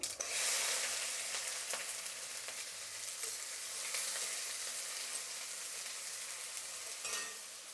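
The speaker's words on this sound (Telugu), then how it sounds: "ఇప్పుడు ఎర్రగడ్డ, పచ్చిమిరపకాయ వేసుకుందాం." Onion and green chili frying in hot oil for a South Indian tempering with mustard seeds and urad dal, a steady loud sizzle with a few stirring scrapes and no talking.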